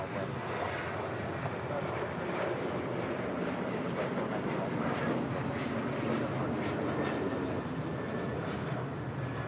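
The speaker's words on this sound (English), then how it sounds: "That is United Airlines 1295 departing to Lihue on a 737-800" A United Airlines 737-800, flight 1295 to Lihue, departs LAX with a broad, roaring jet noise that stays constant, heard from some distance with wind buffeting the microphone.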